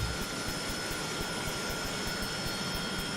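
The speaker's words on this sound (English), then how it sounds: "Of course I'm hearing the engine, it might be yours, mightn't it?" Steady, continuous aircraft engine drone from a plane in a combat flight simulation game, a loud broadband roar with a faint high whine, unbroken and without talk.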